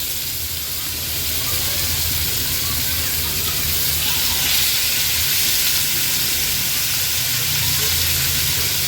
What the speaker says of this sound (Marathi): एक एक करून ही मच्छी आपण ह्या पॅनमध्ये सोडणार आहोत